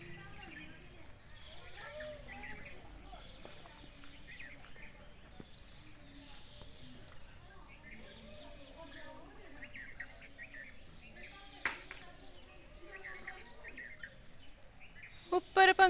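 Small birds chirp and tweet in scattered bursts, soft and fairly distant over a quiet background, with a few louder knocks near the end.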